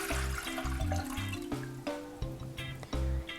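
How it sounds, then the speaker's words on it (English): Three cups of water are poured into a cooking pan for poached pear syrup, a series of close, hollow glugs and splashes that come in uneven bursts with short pauses between pours. "put our 3 cups of water into our pan"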